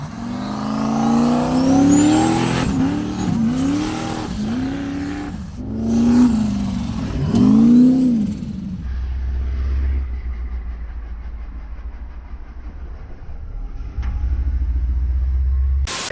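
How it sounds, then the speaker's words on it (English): A powerful turbocharged LS V8 in a Toyota Tacoma prerunner revs repeatedly with rising whines and rumbling bursts, close and loud, then settles into a low idle rumble. "LS motor with a China turbo."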